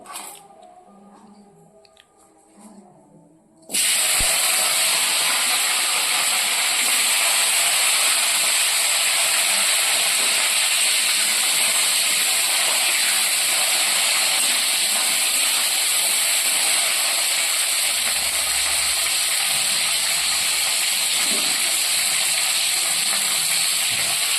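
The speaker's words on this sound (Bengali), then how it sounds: "এখানে আমি সব সবজিগুলোকে ভেজে নেব" Vegetables dropped into hot oil for bhog khichuri burst into a loud, steady hissing sizzle after a few quiet seconds, then fry on without a break.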